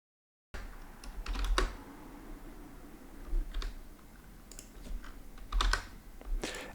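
Code being typed on a computer keyboard, sparse clusters of quick clicking keystrokes separated by short pauses, close and fairly quiet with no talking.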